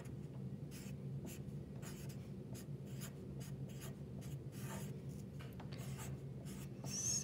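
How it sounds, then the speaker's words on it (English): A pen writing a message by hand on paper shamrock art, a steady run of short scratchy strokes close by and quiet, with no talking. "I am going to write happy"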